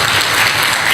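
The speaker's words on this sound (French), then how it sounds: "il mérite des applaudissements." Loud, dense applause from a hall of parents and guests at a school event in Thiès, a continuous roar of many hands clapping close by.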